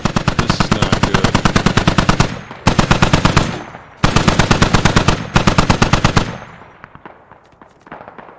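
Mounted machine gun on a technical firing in the game Squad, loud rapid bursts of automatic fire in several long strings with brief gaps, ending in fainter, more distant echoing shots.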